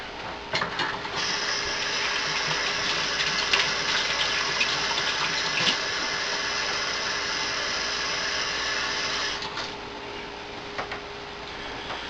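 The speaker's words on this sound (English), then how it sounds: "Wash my hands here real quick." Running kitchen tap water while hands are washed during cooking, a steady loud splashing rush for about nine seconds before the flow cuts off, with no talking.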